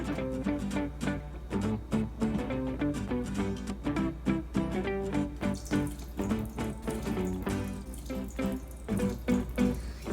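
Water runs steadily into an Instant Pot pressure cooker for the full stretch, a continuous splashing pour with no voices.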